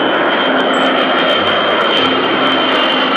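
A loud, steady jet engine of a large airliner at an airport roars continuously, close by, with a broad rushing whine filling the air.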